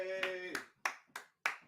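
A few hand claps applaud for Frankie: five spaced, sharp claps, close and dry, with a brief voice sounding over the first two.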